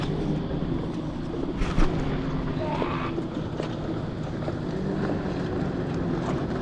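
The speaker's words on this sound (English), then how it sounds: "Wind's kicked up quite a lot at the moment" Strong wind buffets a fishing boat out on the water, a steady loud roar of gusts and microphone rumble with a low hull or motor drone beneath, no speech.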